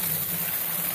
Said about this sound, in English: then I start filling it up with water from a pitcher